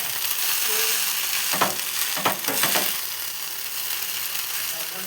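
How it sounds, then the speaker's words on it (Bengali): Boiled Maggi noodles fry in a pan with a steady, close sizzle, and a spoon scrapes and stirs through them in a few brief bursts. "ম্যাগিটা দেওয়ার পর ভালো করে একটু নাড়াতে হবে।"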